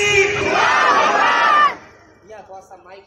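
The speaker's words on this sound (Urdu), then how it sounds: "میں نعرہ لگاتا ہوں, نعرے کا جواب دیں." A crowd at a religious conference shouts the reply to the Nara-e-Takbir slogan, a loud, unified roar of many voices that cuts off abruptly, followed by a faint single voice.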